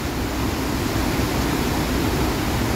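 A rain-swollen creek rushes hard after a sudden heavy downpour, a thick continuous roar at close range that holds steady throughout, with no voices.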